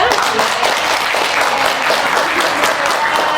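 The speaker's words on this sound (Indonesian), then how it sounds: "tepuk tangan untuk kita semua" Audience applause at a podcast recording, a dense burst of steady clapping from a group filling the whole moment, with a voice faintly present underneath.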